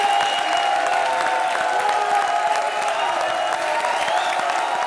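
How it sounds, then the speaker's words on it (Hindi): Steady audience applause fills a comedy show studio, a dense, continuous wash of clapping that holds at an even level for several seconds without a break or speech on top. "ताली बजाओ।"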